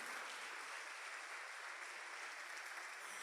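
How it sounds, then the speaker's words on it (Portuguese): Steady, dense applause from a church congregation, sustained and even throughout with no distinct voices above it. "Então dá um aplauso a Ele"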